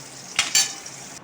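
Spices dropped into hot oil for a combined mango pickle and pulihora tempering, giving two sharp sizzling bursts close by that settle into a steady, softer crackle of frying oil.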